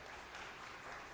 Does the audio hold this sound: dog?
no